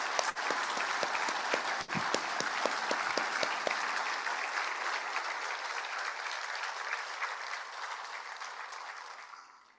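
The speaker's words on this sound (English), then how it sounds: "Please give them a round of applause." A crowd applauds steadily for several seconds at the inaugural function of a judges' conference, the clapping dense and sustained before fading out at the end.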